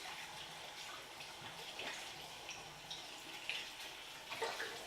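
Tap water runs steadily as a hair bleach mixing bowl is rinsed out in a sink, a soft, continuous splashing gush with occasional brighter splatters, fairly quiet and close.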